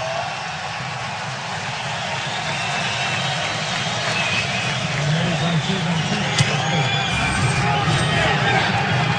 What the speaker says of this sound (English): this crowd is going sick